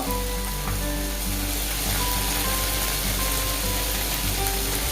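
Ginger garlic paste fries in a pan for a chicken kali mirch dish, a loud, continuous close sizzle that holds steady throughout with faint stirring and no talk.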